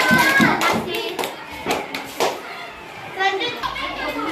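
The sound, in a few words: children's class applauding group two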